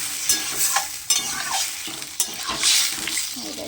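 Potatoes fry in hot oil in a home kitchen with loud, steady sizzling, broken by repeated scraping stirs of a spatula against the pan and bursts of hissing as a little water goes in.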